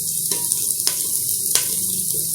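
Onions sautéing in a pan for a country chicken biryani, heard as a brief close sizzle with quick stirring taps and scrapes.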